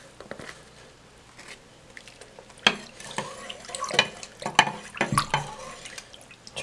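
Tap water running into a sink during a home hair wash day, a steady splashing flow with irregular louder gushes and drips, fairly close, with no talking.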